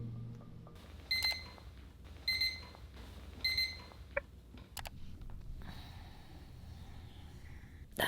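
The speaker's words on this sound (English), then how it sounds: "That alarm was jarring, to say the least" An alarm clock in a bedroom rings in three short, evenly spaced bursts of shrill beeping, followed by faint rustling and small movements in a quiet room.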